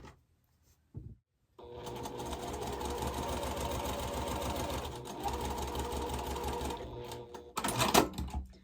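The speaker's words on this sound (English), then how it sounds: "we'll take another G-square and we'll sew at the bottom right corner" A sewing machine runs steadily for several seconds as it stitches quilt block squares for a pressed-flowers quilt, with a louder clattering burst near the end after a brief pause.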